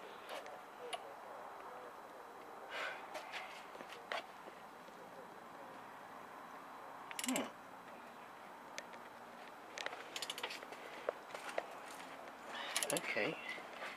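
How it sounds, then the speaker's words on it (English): Torque wrench clicking as it tightens a bolt on a rear axle cover, a few sharp ticks and clicks scattered through a quiet workshop with faint handling noise. "Same torque setting as before. Yep. Just want to tighten the top one up a little bit this time."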